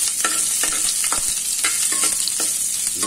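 Ginger stirred and frying in hot oil for beef and bitter melon stir-fry, a steady bright sizzle with scraping stirs and soft clatters of the spatula, close and alone with no voices.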